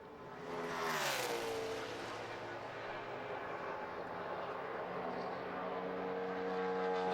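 A NASCAR Cup race car, the James Finch 09 car, laps Texas Motor Speedway in qualifying at the 2009 Dickies 500; its engine roars past with a falling Doppler pitch, then settles into a steady drone under crowd and broadcast noise.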